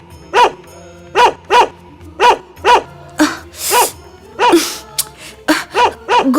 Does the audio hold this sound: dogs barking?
yes